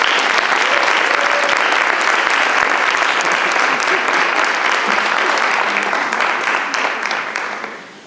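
Loud, dense audience clapping at a fellowship celebration-of-service ceremony, continuing evenly for several seconds and then tapering off as the applause dies down.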